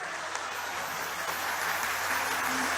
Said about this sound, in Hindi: आपकी तालियां कम है